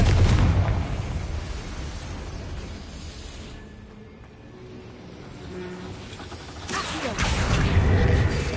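A Confringo fire spell explodes in Hogwarts Legacy, a broad roaring burst that fades into a low rumble before a second loud blast swells near the end, with no talk.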